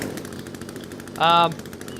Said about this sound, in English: the chainsaw's a pretty nifty bit of kit